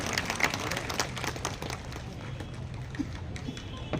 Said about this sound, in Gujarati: આપણે તાળીઓનો ગડગડાટ કરીએ